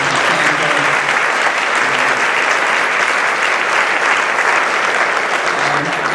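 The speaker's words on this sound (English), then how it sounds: "I want to just give her a big round of applause" Loud, dense applause from a large audience at an anniversary event fills the space continuously, a steady wash of many hands clapping at once.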